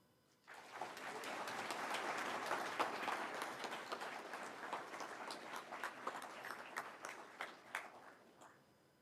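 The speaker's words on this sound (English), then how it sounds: "Please join me in a round of applause" A military patching ceremony crowd applauds newly qualified Florida Army National Guard soldiers, with sustained clapping rising quickly after a quiet start, filling a large space and tapering toward the end.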